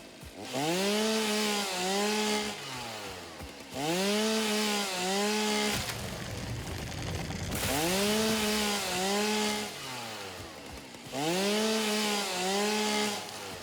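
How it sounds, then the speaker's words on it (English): Chainsaw in the video game Satisfactory, revving in repeated bursts with rising and falling engine pitch, loud and close, separated by brief rougher cutting stretches. "wakes up just to chainsaw noises"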